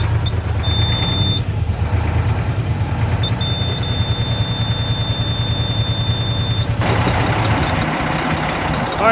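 A 2001 Mack semi truck engine idles with a steady low rumble throughout, while a high, continuous reversing-style beep sounds intermittently over it and the tone shifts near the end.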